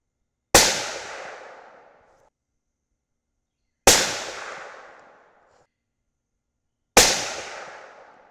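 Three evenly spaced suppressed rifle shots fired outdoors at dusk, each a sharp loud crack with a fading tail, roughly three seconds apart with silence between.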